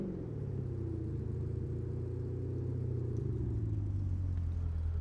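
A modded car with a supercharger blower in Assetto Corsa, a steady engine drone with a whining tone that slowly rises in pitch, close and continuous with no talk over it.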